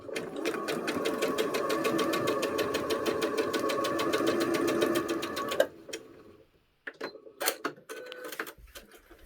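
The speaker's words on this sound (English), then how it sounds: "So I'm bringing that over to the sewing machine." A sewing machine runs in one steady, rapid burst of stitching along a scant quarter-inch seam on a quilt block, then stops abruptly. A few quiet handling knocks and rustles of fabric follow.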